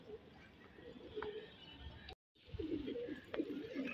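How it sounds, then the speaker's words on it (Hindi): Soft cooing of desi racing pigeons sounds close by over a low rustling background, with a brief dropout midway. "सारे देसी कबूतर"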